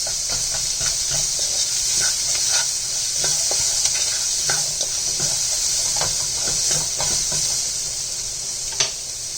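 Onions and green chilies sizzle in a pan with a bright, steady hiss, while a spoon stirs them in a run of soft scrapes and taps, one louder clack near the end; no one speaks.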